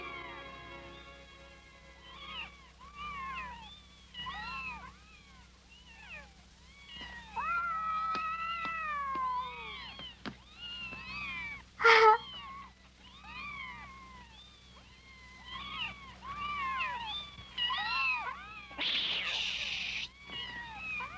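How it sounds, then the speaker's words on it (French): Kittens mew repeatedly in high, thin cries, several overlapping and coming in quick bursts, close by over a faint steady hum. "Des chatons."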